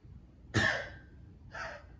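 Two short, breathy coughs close by, the first sharper and louder, the second softer about a second later.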